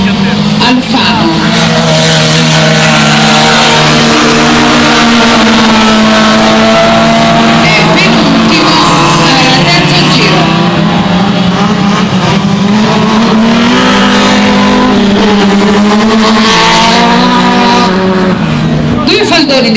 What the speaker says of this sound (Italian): Frasca ha superato Alfano